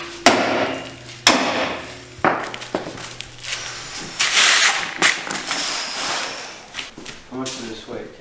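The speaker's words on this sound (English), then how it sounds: "I knew I was going to need the hammer." Several sharp metallic hammer blows ring out during work on an electric kei truck, spaced irregularly and close by, mixed with clanks and rustling, while people talk in between.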